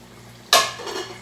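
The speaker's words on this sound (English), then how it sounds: "I'm about to put a plate on top of this pot for the broccoli" A plate set down over a cooking pot of broccoli, one bright ceramic clink followed by a brief ringing rattle, close and clear.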